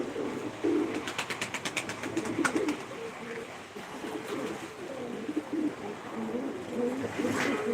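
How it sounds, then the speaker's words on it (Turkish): Many pigeons coo in a continuous, overlapping murmur, close and steady, with a brief burst of wing flapping early on and no speech. "Her taraf kuş."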